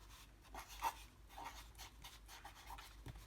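A white acrylic paint marker drawn across a surface gives faint, close scratchy strokes in short repeated bursts, quiet and dry, with a soft low hum behind.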